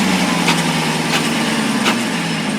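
A 2018 Jeep Trackhawk engine runs loud and close, a steady heavy drone with a few brief rises in pitch over nearly three seconds.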